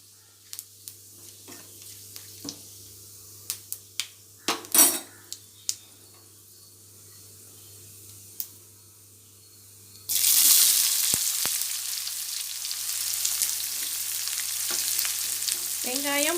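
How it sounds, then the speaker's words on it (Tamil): Onion and garlic frying in oil after fennel seed and a piece of cinnamon, for a mutton brain fry. Quiet clinks and stirring come first, then a loud, continuous sizzle sets in as the onion and garlic hit the hot oil. "வெங்காயம் பூண்டு ரெண்டையும் போட்டு செவக்க வறுக்கணும்."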